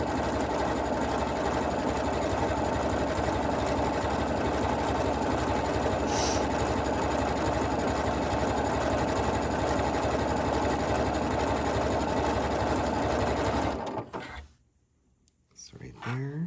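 A domestic sewing machine stitches a quilt block, its steady rapid motor hum running continuously and close up before stopping abruptly near the end, followed by brief faint handling.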